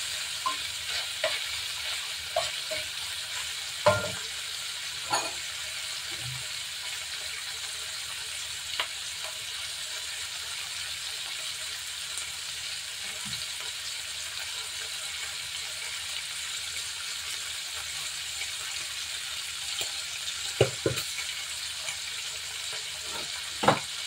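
Garlic and ginger sizzle steadily in hot oil in a pan, a constant bright frying hiss with occasional stirring clicks and spatter pops, close and alone with no talk.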